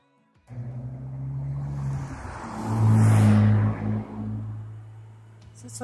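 Massey Harris Pony 820 D tractor engine starting up after a short silence, then running with a deep low rumble that swells into a loud rev before easing back to a steady idle.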